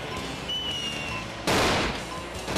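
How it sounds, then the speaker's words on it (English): Explosion in the SpongeBob SquarePants: Battle for Bikini Bottom video game: a single loud burst of crackling blast noise that holds for about a second, over a quieter game soundtrack. "I hear something exploding."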